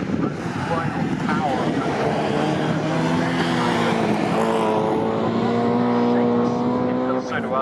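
Low, bassy V8 engine rumble from race cars at a K Series circuit race at Snetterton, a loud sustained roar with rising and falling engine tones as the cars pass close by, with commentators talking over it throughout.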